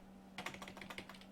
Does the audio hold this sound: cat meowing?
no